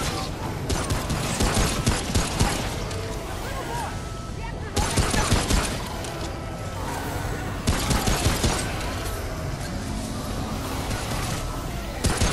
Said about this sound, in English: I'm trying my pistol.